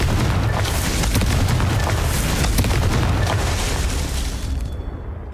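Confringo spell explosions in Hogwarts Legacy make a dense run of booming blasts and bursts. They go on back to back for about five seconds and are loud throughout.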